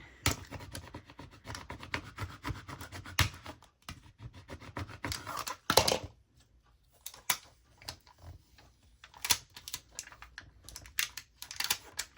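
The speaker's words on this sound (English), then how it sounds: "I'm gonna scrape really good." Transfer tape is scraped down onto a Cricut craft in short, irregular scratchy strokes, close and fairly quiet, with pauses between bursts.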